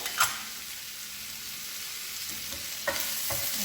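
Prawns roasting in a hot pan give a soft, continuous sizzle, with a couple of brief sharp utensil taps near the start and toward the end.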